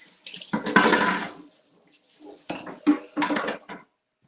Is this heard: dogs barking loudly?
no